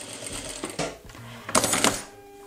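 An industrial sewing machine stitches fabric along the edge of a standard presser foot, giving a steady mechanical whir with a brief pause and a louder burst of running partway through, heard close with no talking.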